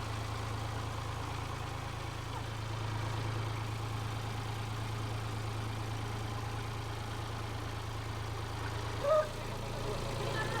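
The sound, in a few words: tractor engine running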